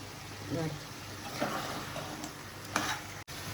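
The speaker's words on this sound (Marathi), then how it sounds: "थोडस असं परतवत ठेवायचं" Country chicken stir-fried in a pan at a home kitchen, giving a steady close sizzle with intermittent scraping stirs and a few louder clatters, while a voice speaks over it.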